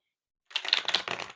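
Tarot cards get shuffled close by in a quiet room: after a brief silence comes one short burst of rapid, crisp riffling clicks, fairly soft.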